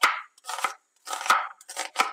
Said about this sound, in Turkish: Şimdi soğanımı yemeklik olarak doğrayacağım.